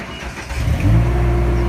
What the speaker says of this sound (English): now when I run the motor